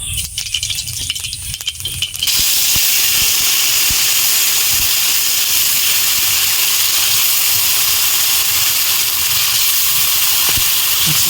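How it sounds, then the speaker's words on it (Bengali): Nigella seeds (kalo jeere) hit hot oil in a pan for a Bengali parshe fish curry, setting off a loud, steady, close broadband sizzle that fills the clip after a quieter opening couple of seconds. "তেল গরম হয়ে গেছে, আমি ফোড়নে কালো জিরে দেবো।"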